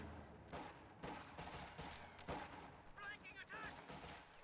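A rifle squad fires in the Company of Heroes 2 strategy game, bursts of rifle gunfire cracking repeatedly at moderate distance under a commentator's talk and battle noise.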